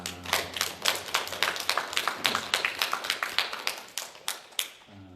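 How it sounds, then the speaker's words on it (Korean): A small congregation at a Korean Holiness church Sunday meeting claps to welcome one another, with distinct, rapid hand claps in a steady rhythm from a few nearby people before trailing off. "우리 박수로 서로 환영하겠습니다."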